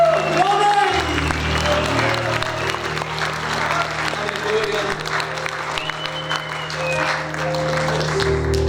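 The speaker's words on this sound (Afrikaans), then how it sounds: "Klap vir Jesus, gee hom Heer, vir al die lof." A church congregation applauds steadily throughout, with a dense wash of clapping and a few whoops, while a voice speaks over the applause.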